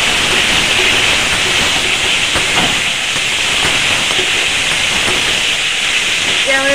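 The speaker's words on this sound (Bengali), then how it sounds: "ব্যাস এবার টমেটোটাকে ভেজে নেব" Tomatoes fry in a pan with a loud, continuous hiss of sizzling oil that stays steady and close throughout, without speech.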